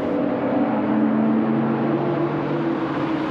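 A Mazda and a McLaren Senna GTR in Marlboro livery run on the track at Sonoma Raceway, giving a steady engine drone with a held pitch that slides slightly lower, constant in loudness, with no talk.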